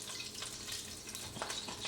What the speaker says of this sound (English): got some olive oil in there. And it's already sizzling,